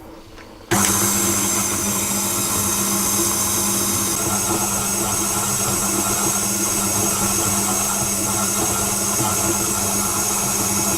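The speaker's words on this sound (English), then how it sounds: "I'm going to beat the flour on a low speed just until it's all combined with the butter and sugar" Electric mixer running steadily on low speed, beating flour into creamed butter and sugar for lemon squares; a constant motor whir starts abruptly and holds at an even level throughout.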